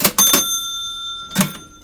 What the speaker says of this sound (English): So you can't open it without the bell going off.